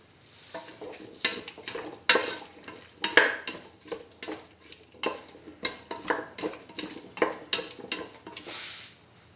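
A spoon stirs and scrapes through a salted potato dish in a metal pot, producing a rapid series of clinks and scrapes in an irregular rhythm, close and fairly quiet.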